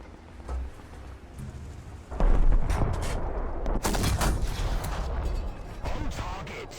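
Heavy tank cannon fire and explosions from the War Thunder video game, an American M36 tank destroyer in battle, booming loudly in repeated blasts with rumbling combat noise throughout.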